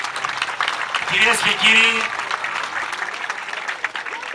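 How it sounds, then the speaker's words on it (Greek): A crowd applauds steadily at the closing ceremony of a swimming race, with the clapping running under a public-address announcer who speaks near the start. "Ένα χειροκρότημα παρακαλώ."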